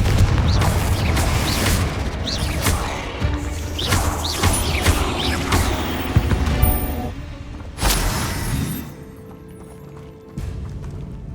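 Confringo explosive fire spell in the game Hogwarts Legacy, a run of booming blasts and crashing impacts over busy in-game action, loud and close, fading to quieter rumble near the end.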